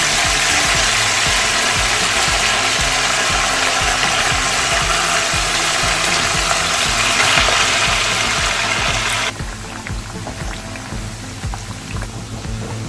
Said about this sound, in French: Je fais frire la viande.